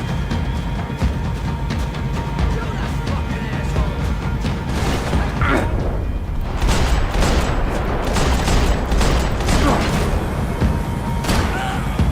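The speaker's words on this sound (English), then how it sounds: "перестрелки просто божественные" Sustained gunfight from the video game Max Payne 3, dense bursts of gunfire and impacts crackling continuously at high volume, with a voice talking faintly underneath.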